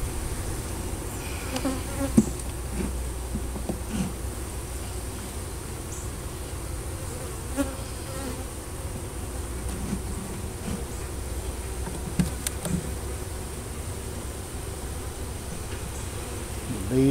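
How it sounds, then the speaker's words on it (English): Calm honeybees buzzing steadily around a hive of captured bees being rehomed, a dense continuous drone up close with occasional louder passes near the ear. "Bees seem very calm and gentle."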